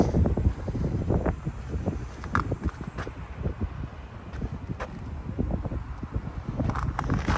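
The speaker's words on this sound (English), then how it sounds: "There's always wind on this corner." Wind gusts buffet the microphone on a cold, gray downtown street corner in Regina, giving loud, uneven low rumbles and thumps that rise and fall continuously, with no speech.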